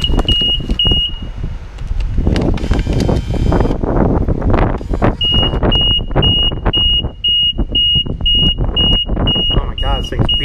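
Regular high-pitched electronic beeps repeat steadily from a car wash machine, pausing briefly then resuming, under loud rumbling wind noise and a voice talking.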